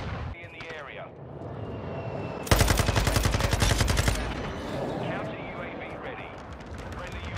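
A rapid burst of akimbo Desert Eagle pistol fire in Call of Duty MW2 rings out for about a second and a half, set amid game ambience and faint voice chat.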